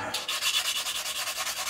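Medium-grit sanding along the wing of an Airfix 1:72 Lightning plastic model kit, a close, steady rhythm of quick rasping strokes with no talk.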